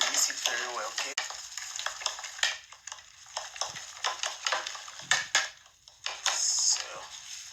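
An egg mixture seasoned with nutmeg is stirred in a bowl, giving close, uneven scraping and sloshing strokes, with a voice speaking briefly at times.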